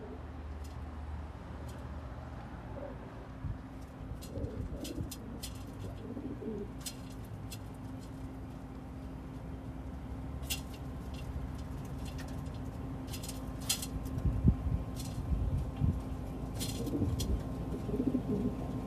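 Rock pigeons coo in a low, soft, intermittent stream against a steady ambient hum, with occasional faint chirps and brief clicks scattered through the scene.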